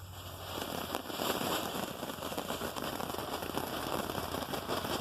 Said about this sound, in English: let's see what kind of a fireworks fountain demonstration this can